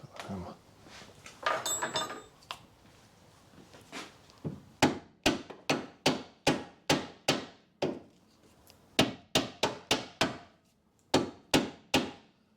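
Sharp metallic hammer blows on a car's lower suspension arm during a repair on a 2010 Mazda 2 1.5 petrol, a long series of loud, evenly spaced strikes, preceded by some clattering and rustling.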